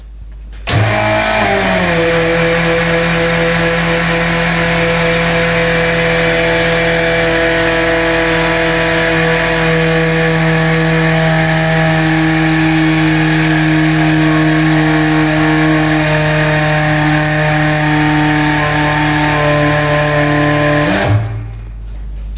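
An STS pneumatic telescopic drum rotator's pump starts up and runs steadily for about twenty seconds, a loud continuous motorized drone with a constant hum, lifting a drum and then cutting off abruptly.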